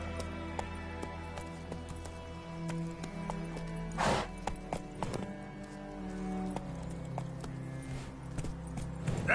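Hooves of the horse Roach clip-clop in a steady galloping rhythm through The Witcher 3, up close and fairly loud, with a few sharper thuds and no voices over them.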